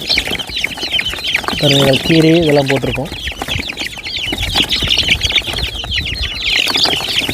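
Two-month-old chicks cluck and chirp steadily in the background while a person talks, with a brief louder crow-like call partway through.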